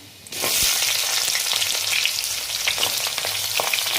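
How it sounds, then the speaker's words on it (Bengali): Drumstick pieces drop into a hot pan for shukto and set off an abrupt, loud, continuous frying sizzle that holds steady, with occasional light crackles and a spatula clink or two. "এবারে সজনে ডাঁটাগুলো তুলে দিলাম"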